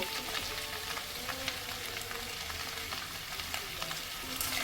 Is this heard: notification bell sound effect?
no